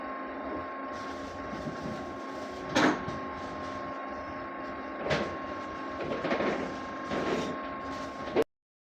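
Inkjet printer running a nozzle test: a quiet steady mechanical whir with a constant tone, punctuated by a few short clacks of the print carriage, ending abruptly.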